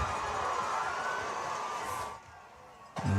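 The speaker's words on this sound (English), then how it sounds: "Canes fans are clapping and reacting" Fans of the Carolina Hurricanes (the Canes) fill the stands at an SCHSL 4A high school football game, Wren vs TL Hanna, with a steady crowd roar of cheers and clapping that fades after two seconds before a brief burst returns.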